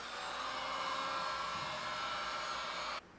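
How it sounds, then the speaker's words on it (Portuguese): Heat gun blowing hot air while warming vinyl wrap on the side of a kitchen stove, a steady loud whooshing roar that runs unbroken for about three seconds and then cuts off. "você vem com o soprador térmico"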